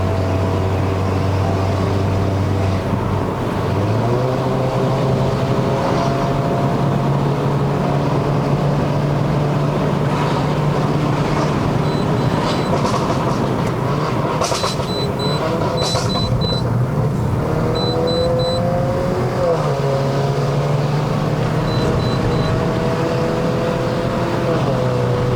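Engine of a W176 Mercedes-Benz A180 with a seven-speed dual-clutch gearbox, driving uphill on the Genting road in Malaysia. A steady drone rises and falls as gears shift, with a few tones and light noises over it.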